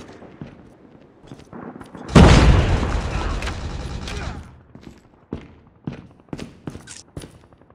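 A frag grenade blows up in Call of Duty Mobile: one heavy, close blast with a long crackling tail. Scattered gunfire pops and short shouted callouts come before and after it.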